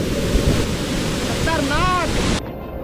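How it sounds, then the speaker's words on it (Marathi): A large waterfall beside the Tamhini Ghat road sends up a steady, broad roar of rushing water that stays constant and loud before cutting off abruptly near the end. "तामिनी घाटाचा आतापर्यंतचा सगळ्यात मोठा धबधबा"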